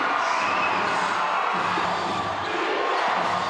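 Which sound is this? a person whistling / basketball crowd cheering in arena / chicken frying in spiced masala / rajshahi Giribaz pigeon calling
basketball crowd cheering in arena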